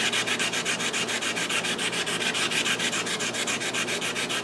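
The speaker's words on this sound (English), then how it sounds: "Let's hand sand it." A woodturned sushi dish being sanded by hand, with quick, even back-and-forth rubbing strokes that sound close, loud and continuous.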